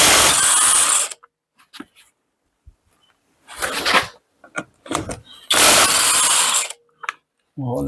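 Power tools remove the wheels from a Dacia Duster on a frame-straightening rig during body repair. Three loud, harsh bursts are separated by quiet gaps, and a voice briefly appears at the end.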